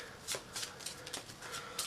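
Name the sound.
shuffling a deck of game cards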